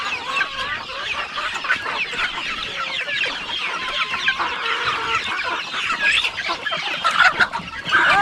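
Chickens cluck and squawk busily close by in a lively, continuous chatter that gets louder and more agitated toward the end.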